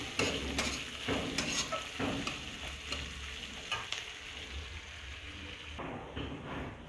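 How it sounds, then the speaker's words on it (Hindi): Onions sizzle in a pan with a little oil for a bottle gourd dry curry, a steady close frying hiss broken by scraping stirs. "प्याज को थोड़ा सा भून जाने देती हूँ"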